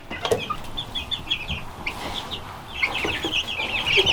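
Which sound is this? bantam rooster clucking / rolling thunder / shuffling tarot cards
bantam rooster clucking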